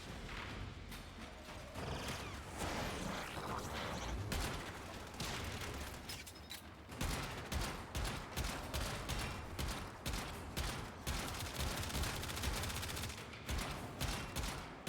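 Rapid gunfire in the shooter game Warframe: dense, loud bursts of shots and machine-gun fire rattle continuously, with sharp repeated cracks and mechanical clatter and no talk.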